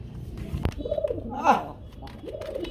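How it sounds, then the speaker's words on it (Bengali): Domestic pigeons kept by a hobby breeder give soft, throaty coos in short bursts, close by, mixed with nearby talking and light background noise. "ডাক শুনলেই ভালো লাগে কবুতরে"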